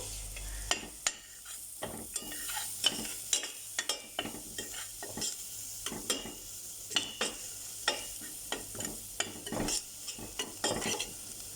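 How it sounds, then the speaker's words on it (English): Cumin seeds fry in a pan with onions as a spoon stirs through them, giving a steady sizzle broken by repeated scraping strokes at an even rhythm, close and moderately loud, with no talking. "And to this I'm going to be adding in my cumin. Let that fry up nicely."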